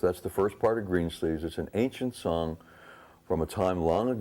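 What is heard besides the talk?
No everyday noise stands out behind the speech.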